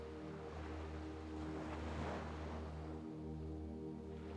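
Waves wash continuously on a beach on the Gili Islands: a steady, soft surf roar with a faint low hum underneath, unbroken and with no voices.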